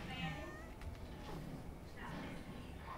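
A cat meows a few times, faint and somewhat distant, against a low background hum.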